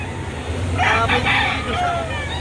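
Chickens and roosters at a poultry market in Lipa City, Batangas, crow and cluck in a brief burst over a steady crowd and traffic din, with people talking nearby.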